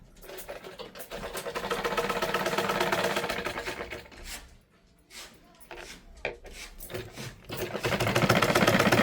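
Sewing machine stitching a blouse in a tailoring shop, bursts of rapid mechanical needle clatter that pause briefly midway, then resume, with faint background voices.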